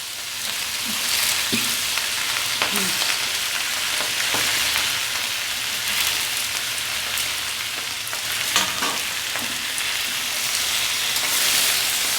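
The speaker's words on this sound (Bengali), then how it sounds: "আমাদের চালটা ভাজা ভাজা হয়ে গিয়েছে। আমরা এবার বাঁধাকপিগুলো আস্তে আস্তে দিয়ে দিব।" Shredded cabbage sizzles in a hot pan with fried pulao rice, a steady close frying hiss with occasional soft stirring knocks.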